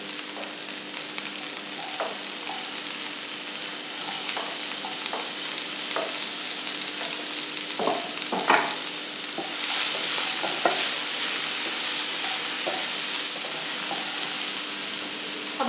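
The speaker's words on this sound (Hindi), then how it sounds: "और धीरे धीरे करके इसको स्टिर करेंगे। अब हम इसमें ककड़ी ऐड करेंगे।" Cucumber stirred in a hot pan for grilled pasta salad, a steady sizzle and frying hiss running throughout with scattered scraping and clinking from the spoon, close and fairly loud, no talking.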